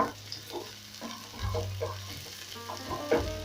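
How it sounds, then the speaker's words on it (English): Ingredients for a spinach dish sizzle and fry steadily in a hot pan while being stirred, a close continuous crackle with soft scraping strokes. "Then I'm going to saute this until they start turning color"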